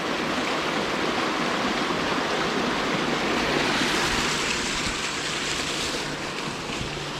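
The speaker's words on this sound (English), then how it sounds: "it builds up all this pressure and comes down here and feeds the pond" Water from a pipe fed by a creek pours steadily into a campground pond, a constant broadband rushing splash that holds even and fairly close throughout, with no voices.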